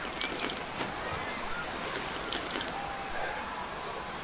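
Rushing, splashing water ambience at a water park in the Roblox video game, a steady broadband wash of surf-like noise with small splashes throughout, fairly loud and continuous with no talk.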